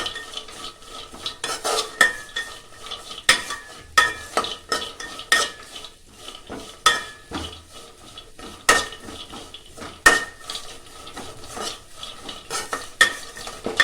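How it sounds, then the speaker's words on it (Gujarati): A spoon scrapes and clinks rhythmically against a pan as bread suki bhaji is stirred over a high gas flame, with a soft sizzle underneath and no voices. "ગેસની ફ્લેમ હાઈ કરી દઈએ ને હલાવતા રહીશું થોડી વાર"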